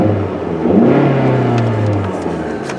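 A Jeep Patriot engine with its engine light on revs up close by, its mid-pitched hum climbing and holding steady for a couple of seconds before easing off.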